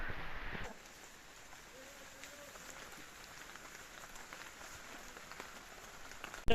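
Soft, steady patter of rain falling on surfaces, fairly faint and continuous, after a brief louder noise at the start.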